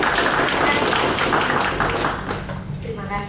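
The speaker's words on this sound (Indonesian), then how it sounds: "Mari kita sambut bersama-sama dengan tepuk tangan yang meriah untuk Ibu Ica Khadijah" Audience applause at a seminar in a hall, a steady dense wash of clapping that thins and fades toward the end.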